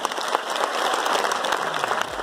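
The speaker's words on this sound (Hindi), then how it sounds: "आप सबों के लिए एक जोरदार तालियां" A meeting audience applauds warmly, welcoming first-time attendees; the steady, dense clapping fills the room, close and loud throughout, with no talk over it.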